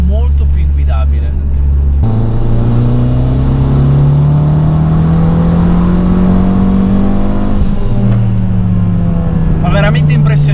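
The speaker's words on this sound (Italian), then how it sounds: "Fa veramente impressione quando arrivi a 5-6 mila giri e il motore non perde un colpo." Tuned Fiat 500 Abarth with about 305 hp revving hard on a damp winter road, a loud engine note climbing steadily in pitch through the gears with one brief shift dip, under speech.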